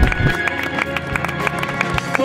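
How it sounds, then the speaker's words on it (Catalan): Spectators applaud and cheer the winning runner at the finish of the 2013 Vall de Núria mountain race, with rapid scattered clapping running under someone speaking over it. "Punt final, fort aplaudiment de tothom."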